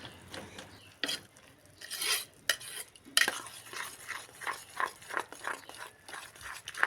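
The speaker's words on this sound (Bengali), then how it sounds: "সব কিছু একসঙ্গে মিশিয়ে নেব।" Puffed rice and beaten egg batter are mixed in a bowl with a utensil, rhythmic scraping and stirring strokes repeating near and fairly quiet.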